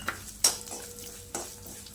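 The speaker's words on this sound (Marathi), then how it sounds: "पांढरे तीळ आहे ना छान असे खमंग भाजून घ्यायचे तेलावरती यामध्येच दोन चमचे खसखस घालून घेतलेली आहे" White sesame and poppy seeds roast in oil in a pan, giving a faint steady sizzle broken by a few soft scrapes and clinks of a stirring spoon.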